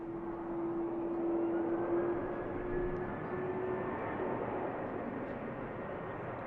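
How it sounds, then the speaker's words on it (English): An Aer Lingus airliner and a red-nosed Norwegian jet taxi at Manchester Airport, their engines a steady distant whine and hum, with a faint tone sliding across the continuous low roar. "Aer Lingus continues to taxi as the red-nose Norwegian heads out on the return leg to Copenhagen."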